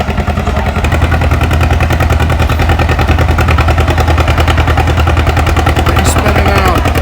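A John Deere A tractor labors at a tractor pull, its engine pounding out a steady, rapid, loud chug that holds without a break from start to finish.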